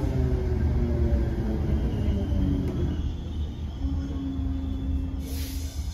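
Onboard an Irish Rail Class 8100 electric multiple unit running between Greystones and Dublin, a continuous deep rumble of the moving carriage fills the cabin, with faint wheel squeal tones drifting over it and a brief hiss near the end.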